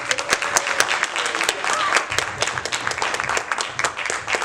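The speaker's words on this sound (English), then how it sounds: "I'd like everyone to give a round of applause to DMC." Audience applause at a Roosevelt Library event for DMC of Run DMC: steady, dense clapping from a crowd, with voices and chatter mixed in throughout.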